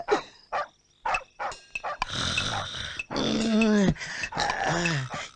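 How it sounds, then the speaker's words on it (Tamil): A dog barks in short bursts close by, then growls and whines in longer yelping cries. "என்னப்பா நாய் கத்துது?"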